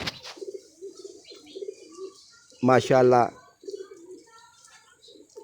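Sialkoti pigeons coo softly in low repeated bursts, close by, with one louder rolling coo near the middle; someone speaks briefly over them.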